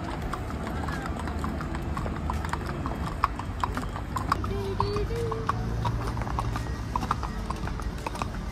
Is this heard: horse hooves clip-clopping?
yes